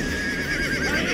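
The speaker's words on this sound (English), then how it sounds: "Wait, you bought a horse?" A horse whinnies loudly in a film scene, one long wavering neigh held for about a second over a dense background of score and ambience, with faint hoof clip-clop beneath.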